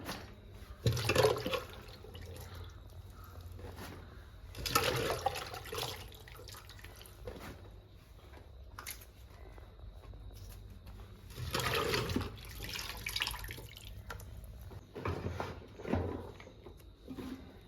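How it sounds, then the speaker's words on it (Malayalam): Jackfruit pieces are washed under running tap water, with loud bursts of splashing flow separated by quieter stretches of trickling. "അപ്പോൾ ചക്ക ഒന്ന് ഇനി കഴുകി ഒന്ന് വാരിയെടുക്കാം"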